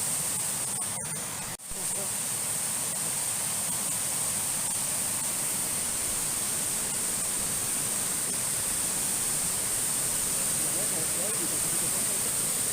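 Waterfall cascades pour through a forest along a riverbank, a loud, steady broadband rush of water that runs unbroken from start to finish with no voices.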